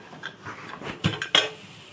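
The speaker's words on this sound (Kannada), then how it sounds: "ನೋಡಿ ಫ್ರೆಂಡ್ಸ್ ಇವಾಗ ಕುಕ್ಕರ್ ಎತ್ತಾ ಇದ್ದೀನಿ" A pressure cooker lifted while cooking chicken biryani, with a few close metallic clinks and knocks of pots, three sharper hits coming toward the end.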